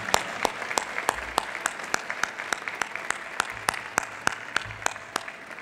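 An audience at a college State of the College event applauds its generous sponsors, a round of clapping with sharp individual claps standing out above a dense, steady patter.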